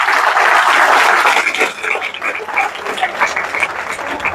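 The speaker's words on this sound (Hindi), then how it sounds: "एक बार ताली बजाइए साहब" An audience at an RCM training program applauds loudly and densely at first, then the clapping thins into a scattered, fluttering patter that continues to the end.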